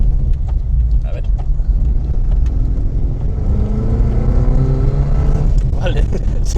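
Fiat Panda 4x4 engine at full throttle with all-wheel drive switched off and the front wheels spinning: a loud, steady low engine drone with rising revs heard from inside the car, under voices talking.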